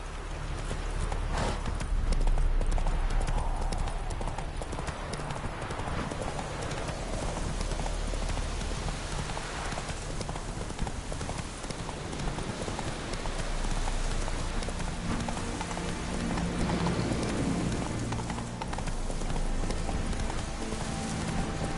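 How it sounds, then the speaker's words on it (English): A horse's hooves clip-clopping steadily in a PS4 video game, a continuous close trotting rhythm over a dense, rain-like noisy background. "Not so fast, Roach. Come on now."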